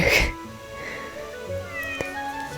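In the MAZM Phantom of the Opera video game, a single loud, close cat meow opens the moment, followed by quieter game ambience and faint tones.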